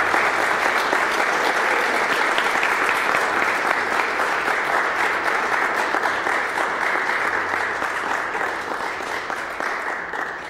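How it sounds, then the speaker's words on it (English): Congregation at a Sunday morning church service giving a steady, full round of applause, dense continuous clapping held at even loudness for about ten seconds before tapering slightly. "Please give them a round of applause as they come."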